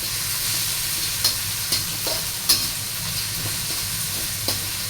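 Spinach frying in a pan with garlic paste: a constant loud sizzle with a few evenly spaced scraping stirs and light taps, close and continuous.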